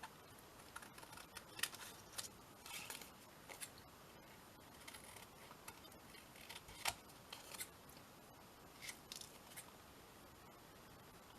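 Scissors snip through a paper project in quiet, scattered clicks and short cuts, close but faint against a soft background, with no voices.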